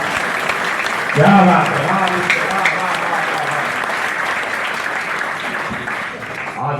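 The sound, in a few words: audience applause at a Holi poetry gathering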